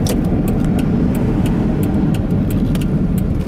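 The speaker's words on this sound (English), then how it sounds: "A little bit of grinding on them wheels." A used car rolling along on a test drive with wheels grinding, steady road and engine rumble throughout with faint repeated scraping ticks, close and continuous, no talk.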